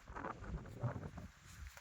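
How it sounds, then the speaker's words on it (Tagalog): Gusty wind on high rolling hills in Tineg, Abra buffets the microphone in uneven rumbling bursts, with a faint rustle underneath and no voices. "Napakalakas na hangin."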